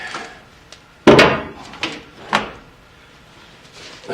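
Someone pries the upholstery panel off the door of a 1948 Chevrolet car in an interior restoration. Sharp clips snap and knock as it comes loose, with one loud pop and a few smaller clicks spread out.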